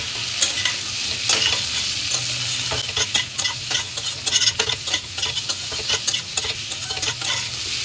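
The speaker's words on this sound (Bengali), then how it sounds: "একটু গ্যাসের ফ্লেম বাড়িয়ে মশলাটা কষিয়ে নেব" Ground coriander and cumin spice mix stir-fried in hot oil over a raised gas flame, a steady close sizzle broken by frequent scraping and stirring clatters of a spoon against the pan.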